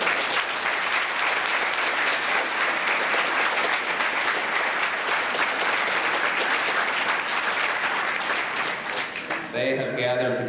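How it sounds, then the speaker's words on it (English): Audience at a 1992 Pee Wee hockey awards event giving the host committee a long round of applause, dense steady clapping filling the room before fading near the end. "I would like to ask that you extend a hand of applause to that committee"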